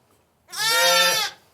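A mother goat on a farm lets out one long, loud, wavering bleat close by, hollering after her kid ran off.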